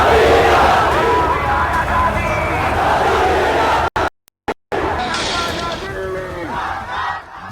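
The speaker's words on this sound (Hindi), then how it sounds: "किस तरीके से बेकाबू भीड़, उन्मादी भीड़ यहां पर तहस नहस मचाई हुई है।" An uncontrolled, frenzied rioting crowd in Bangladesh roars and shouts continuously at close range, broken by a few brief dropouts of silence, then the dense clamor resumes.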